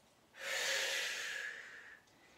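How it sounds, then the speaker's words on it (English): A long, steady exhaled breath during a lower back exercise routine, a close breathy rush lasting over a second that fades out, with no talking. "exhale"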